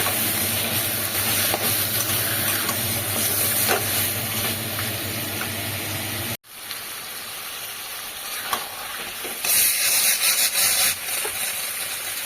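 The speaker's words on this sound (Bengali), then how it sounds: "এবার মাটনগুলো দিয়ে দিলাম কারণ আমার মশলা দিয়ে এখনও তেল ছাড়িনি" Mutton pieces sizzle and fry in hot oil with spices, a steady dense crackle with a brief drop midway, then louder bursts of hissing toward the end.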